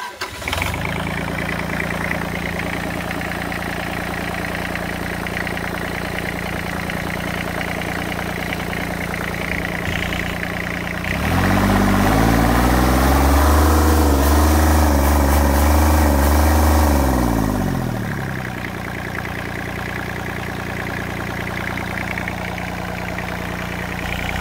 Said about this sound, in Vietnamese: Thì để em đem máy nổ